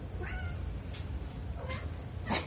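A pet cat meows several times in short, separate calls, close and fairly clear against a quiet room, with no talk.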